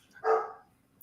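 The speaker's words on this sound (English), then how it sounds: "Gusta barking really is messing with my brain right now." A single dog bark rings out once at moderate distance, sharp at the start and fading quickly, with quiet around it.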